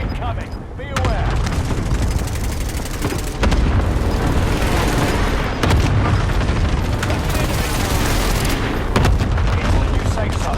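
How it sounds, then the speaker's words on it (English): Heavy booming airstrike explosions roll continuously in the Call of Duty Warzone battle royale, with deep low rumbles and sharp blasts layered over game announcer voice lines. "Allied precision airstrike incoming."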